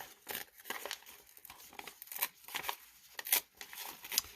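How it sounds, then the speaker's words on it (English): Lined paper torn slowly by hand from the top with the thumbs, a series of close, crisp ripping and crinkling bursts without speech. "just put your thumbs up at the top and start tearing carefully"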